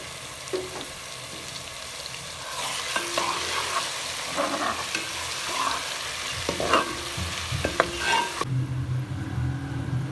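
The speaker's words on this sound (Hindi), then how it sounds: "प्याज को हम लाइट ब्राउन करेंगे और इसमें लहसुन अदरक का पेस्ट ऐड कर देंगे।" Onions sizzle and crackle in a hot pan, with scraping stir strokes over the frying. The sound cuts off abruptly near the end.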